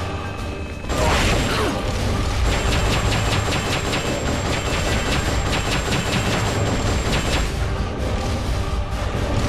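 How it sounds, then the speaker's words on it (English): In Metal Gear Solid: Peace Walker, a drive motor charges with a loud, continuous mechanical grind and rapid ratcheting clicks that kick in after a second and hold steady throughout. "That drive motor charging"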